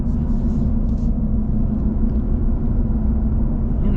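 A Ram pickup's standard-output Cummins diesel engine idles with a deep, steady rumble close by, constant and unchanging throughout, with no talking.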